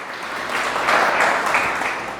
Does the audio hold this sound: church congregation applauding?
yes